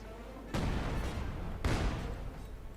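Artillery bombardment in the Company of Heroes 2 video game strikes as two heavy booming impacts about a second apart, each followed by a rumbling decay.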